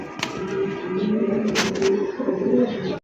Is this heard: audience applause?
no